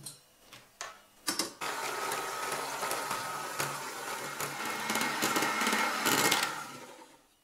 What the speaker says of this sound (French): il ne nous reste plus qu'à monter les blancs en neige